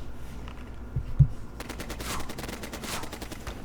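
Rapid machine-gun fire from the Heroes of Normandie tabletop war game, a dense stream of bursts that swells midway over steady battle noise and carries on to the end.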